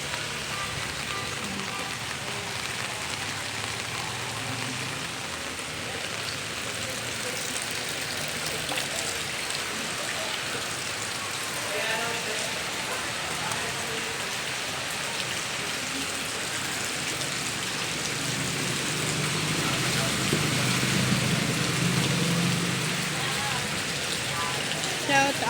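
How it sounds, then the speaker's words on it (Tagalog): Heavy rain from a typhoon pours down steadily and loudly, a dense, continuous hiss of drops drumming on surfaces that swells slightly toward the end, with faint talk in the background. "napakalakas ng ulan"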